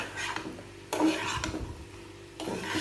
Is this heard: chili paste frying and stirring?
yes